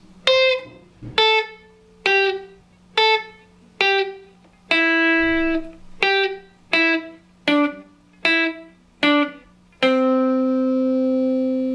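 Electric guitar plays a run of about ten clean, evenly spaced picked notes in a pentatonic pattern, ending on a long sustained note.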